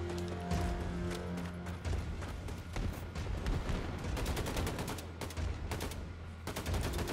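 Rapid, dense gunfire from the shooter Wolfenstein 2: The New Colossus, with sustained bursts and loud overlapping shots continuing throughout, close and aggressive, with a few short gaps between volleys.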